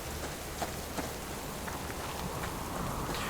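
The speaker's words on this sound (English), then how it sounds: "some people might be worried that all this rain would put my fire out" Rain falling in the survival video game Subsistence, a steady soft hiss of drops that continues evenly throughout with a few faint ticks and no voices.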